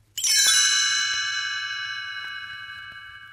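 A bright chime rings out once and sustains, its shimmering tones slowly fading over a few seconds in a quiet room.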